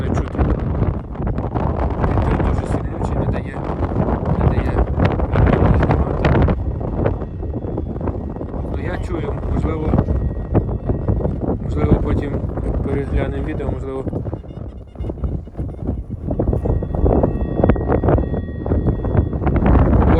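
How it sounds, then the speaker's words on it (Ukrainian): Strong wind buffets the microphone continuously, a loud rumbling roar with gusts throughout, and people talking intermittently underneath. "сильний вітер"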